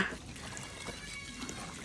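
Water runs along an open street drain in hot weather, a soft, steady trickle and wash that stays faint and continuous with low background noise.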